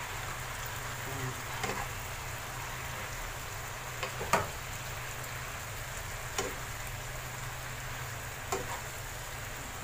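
Pechay (bok choy) sautéing in a pan, with a soft steady sizzle beneath intermittent clinks and scrapes of a spoon stirring, moderately close and without speech.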